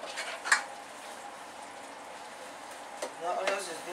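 Onions frying in a pan of paste while cooking egusi soup, giving a steady soft sizzle throughout, with a few utensil clinks near the start and a brief scraping stir near the end.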